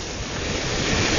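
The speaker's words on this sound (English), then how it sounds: "these waves are rolling in so fast" Ocean waves roll onto a beach where a child's sandcastle is being washed away, a steady, loud broadband surf wash with no gaps, close and continuous throughout.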